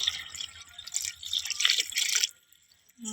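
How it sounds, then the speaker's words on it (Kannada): Water is poured into a cooking pot already holding salt and turmeric: a bright, splashing stream runs for about two seconds, then stops, followed by a brief low knock. "2 ಚೆಂಬು ನೀರು ಹಾಕ್ತಾಯಿದ್ದೀನಿ."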